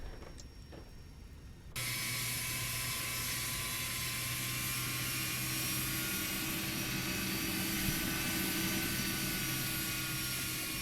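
Boeing 757 jet engines in a flight simulator game spool up as the plane begins rolling, a sudden steady broadband roar with a whining tone that comes in after a quieter start and holds evenly.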